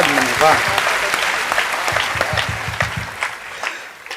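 Audience applause at a Hindi poetry recital (kavi sammelan), a dense, steady clatter of many hands that slowly thins out, with a voice speaking briefly near the start.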